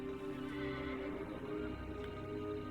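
A horse whinnies in Kingdom Come: Deliverance II over a steady bed of game music, the neigh drawn out and fairly loud, with faint hoof clops beneath.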